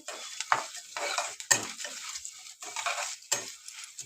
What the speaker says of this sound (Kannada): ಇದನ್ನು ಇವಾಗ ಚೆನ್ನಾಗಿ ಫ್ರೈ ಮಾಡ್ಕೊಳ್ಳೋಣ